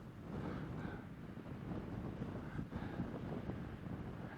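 Continuous wind on the top of Tynehead Fell in the North Pennines buffets the microphone with a low, rumbling roar that swells and eases slightly, with no voices present.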